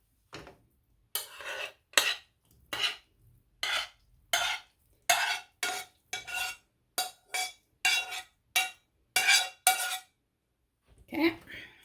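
Onions stirred into a potato-based perogy filling in a pot, a metal spoon scraping and knocking the pot in about a dozen evenly spaced strokes, close and crisp with short silences between.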